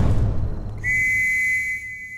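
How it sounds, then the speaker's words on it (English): A sharp, sustained warning whistle sounds out loud and clear in a tense thriller scene, taking over from a low rumbling bed of noise and holding a steady shrill tone for about a second. "And then it's a whistle. If you hear that, then we run."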